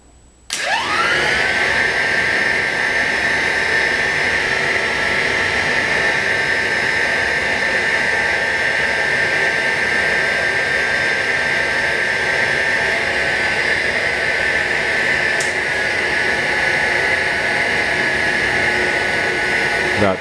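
A Spectrolab SX-16 NightSun searchlight ignites on a battery pack and then hums steadily with a loud, constant whine and rushing noise that holds unchanged for about twenty seconds.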